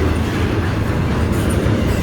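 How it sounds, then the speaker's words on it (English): Freight train rolling past at Westmont, Illinois, a loud, steady, close rumble of heavy cars with low-end roar and faint wheel clatter throughout, no voices. "It's just amazing how powerful freight trains can be."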